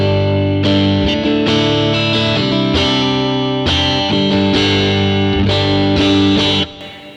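Electric guitar played through a Fractal FM9 '59 Bassman crunch bright preset, loud overdriven chords strummed in a steady rhythm with no talking, ringing out and dropping away at the end.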